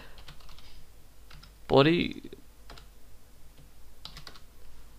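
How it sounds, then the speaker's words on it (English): Computer keyboard typing while writing HTML tags in Dreamweaver: faint, scattered key clicks close by, broken up by a short spoken word partway through. "So you can just start typing a bit of the tag and it will do the rest for you."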